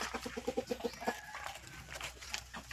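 Chickens cluck in a rural village coop, a quick run of close, rhythmic clucks followed by softer scattered clucking and farmyard background.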